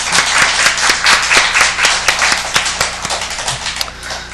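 A church congregation claps for a pastor after a sermon, loud, close and continuous, with a rhythmic pulse running through the dense applause and no talking.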